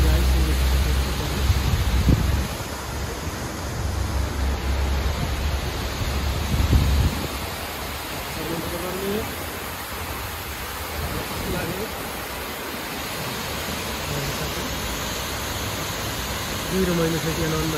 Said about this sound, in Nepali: नजिकै झरना मुनि आइसकेको छ।